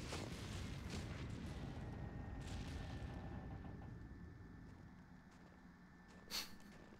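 An explosion in the Metal Gear Solid video game, heard as a faint, low rumble that slowly dies away over several seconds, with a brief pop near the end.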